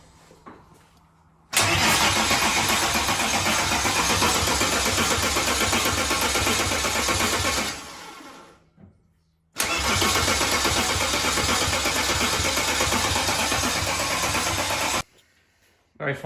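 A rebuilt BMW M3 S54 engine cranks and fires up, running loud and steady for several seconds, cutting off, then starting again for another long loud run before shutting down.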